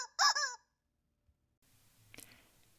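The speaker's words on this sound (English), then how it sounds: "Sometimes with a squeaky rubber chicken or two." A squeaky rubber chicken gives one loud, honking squeal at the start, followed by near silence and a few faint clicks and rustles.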